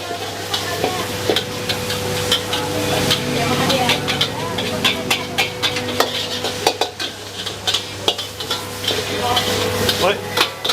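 Butter sizzling and frying in a hot pan in a busy food-stall kitchen, with steady crackle under repeated scraping, stirring and clinking of utensils against cookware, plus background clatter and voices.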